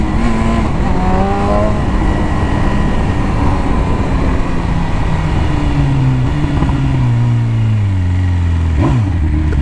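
A BMW S1000 motorcycle accelerating hard on a race track, its high-revving engine loud and close with the pitch climbing through several gear changes, then dropping into a final falling sweep.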